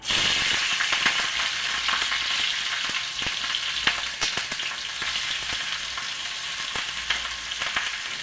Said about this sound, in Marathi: तर हे आपण गरम झालं आहे तेल, तर टाकून देऊ मिरची